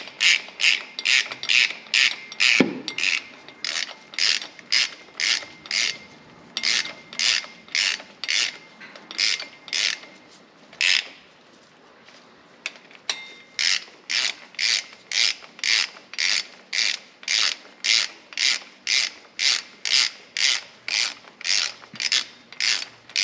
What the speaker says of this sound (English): So we'll just get these all snugged up and then we'll grab our torque wrench and we'll torque it down.